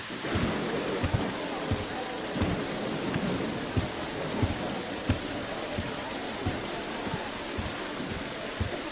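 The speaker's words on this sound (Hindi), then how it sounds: "तुम तो बारिश को देखो" Steady rainfall fills the whole stretch as a dense, even hiss, with faint low rumbles and soft irregular thuds beneath it, loud and close throughout.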